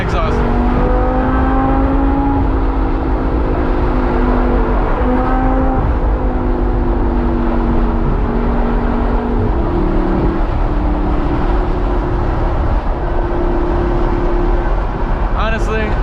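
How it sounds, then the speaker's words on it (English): Supercharged Lamborghini Gallardo Spyder exhaust while driving, a steady loud engine drone with shifting pitch as it cruises and revs, wind and road noise throughout. "I'll go ahead and shut up now and listen to the exhaust."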